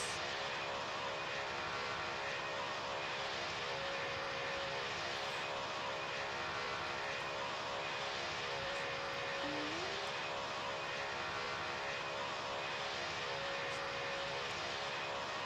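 Airplane flying in a flight game: a steady, droning engine hum holds at even loudness throughout, with no talking.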